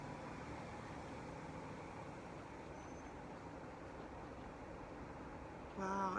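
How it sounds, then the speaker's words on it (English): Steady low roar of road traffic passing back and forth near an outdoor patio, a continuous faint wash of vehicles with no distinct single pass-by. "A lot of traffic going back and forth."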